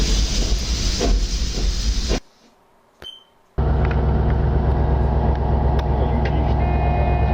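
Animated steam engine Thomas reversing with coal trucks: loud continuous steam hiss and rumbling rail noise, cut by a brief near-silent gap with a sharp knock, then the hissing chuff resumes steadily.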